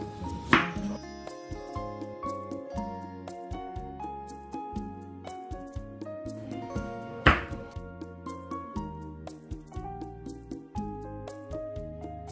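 Vegetables sliced on a cutting board for lumpiang gulay, a near, steady run of knife thunks and chops in quick rhythm, with a couple of sharper clinks.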